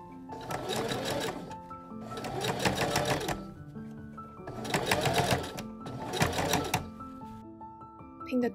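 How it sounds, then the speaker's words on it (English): A heavy-duty sewing machine stitches through layers of fabric for a Victorian bustle gown, four close whirring bursts of rapid needle clatter separated by short pauses. "I'm really glad I got this heavy-duty sewing machine"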